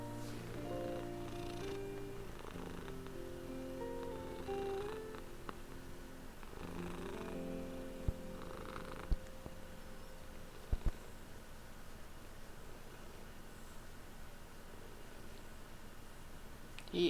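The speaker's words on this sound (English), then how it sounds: "He is a purr box." A pet cat purrs softly and steadily for a long stretch, close but quiet, with faint music underneath and a few small clicks and knocks.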